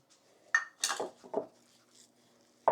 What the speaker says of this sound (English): Stir in 1 cup of the sugar